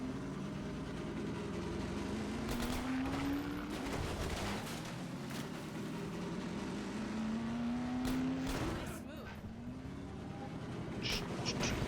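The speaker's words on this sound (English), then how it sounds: "We're getting shot at again, Alex." Gunfire in the video game Half-Life 2, rapid bursts of shots and impacts cracking over a constant roaring background, with a rising engine-like whine passing through, loud and busy throughout.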